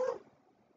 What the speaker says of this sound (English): you may be able to hear my dog crying, talking